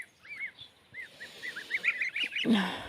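Geese honk repeatedly in a loose, overlapping series at moderate distance, with a short burst of noise at the end.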